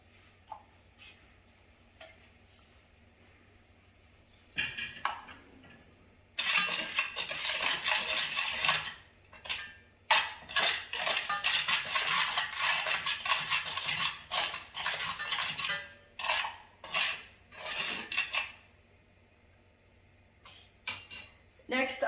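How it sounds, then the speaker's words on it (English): Water and crushed sargassum seaweed go into a pot, heard as a bright rushing pour and splashing with clinks of metal, then scattered knocks and rustles, all close and fairly loud. "I'm going to start by adding water and the crushed up sargassum to the pot to make boiling sargassum."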